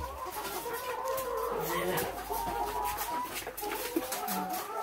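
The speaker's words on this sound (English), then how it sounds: "So feeding the chickens, we've done it." Egg-laying chickens cluck steadily at morning feeding, a dense flock chorus close by with overlapping calls and bursts throughout, with no talk.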